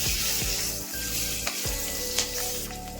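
Cumin, chillies and garlic sizzle steadily in hot oil for an aloo matar side dish, with a few soft stirring clinks and scrapes over the continuous frying hiss.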